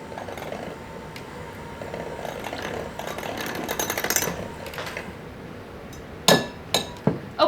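An ice cream base with Cointreau and a drop of vanilla bean paste is mixed with a whirring, buzzing electric mixer, followed by a few sharp clinks against the bowl near the end.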